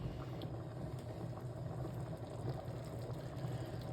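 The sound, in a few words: tuna pasta sauce simmering in a pan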